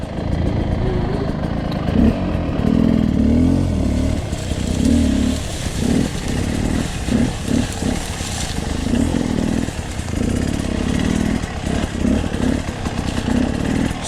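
A 2020 Beta 300RR Race Edition two-stroke dirt bike engine is ridden and blipped, its loud buzzing exhaust rising and falling with repeated throttle stabs, close and continuous throughout.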